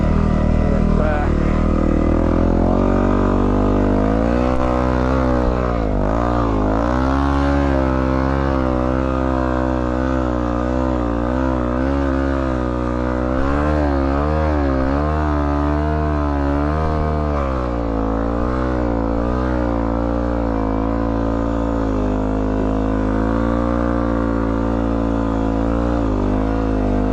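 Dual sport motorcycles, a WR250R, DR650 and R1100GS, ride through deep sand, their engines droning loud and steady throughout with rising and falling revs as they labor along.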